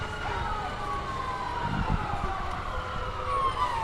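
Fire truck sirens from a passing fire department procession in a parade, a steady wail heard amid crowd noise and distant talk, holding at moderate level throughout.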